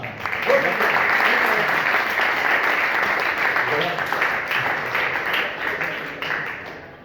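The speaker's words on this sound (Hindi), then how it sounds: "हो सके तो ताली बजा दो" Audience clapping at a school event at Baba Saheb Bhimrao Ambedkar Vidyalaya in Charkop, Kandivali, Mumbai: sustained, dense clapping lasting several seconds, fading slightly toward the end, with voices mixed in.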